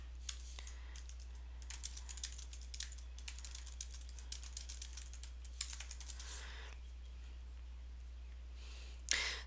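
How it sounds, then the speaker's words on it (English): Keystrokes on a computer keyboard come in irregular bursts and short pauses, close up and fairly quiet over a steady low hum, with a louder clack near the end. "So I'm going to add typing over and just start writing my story."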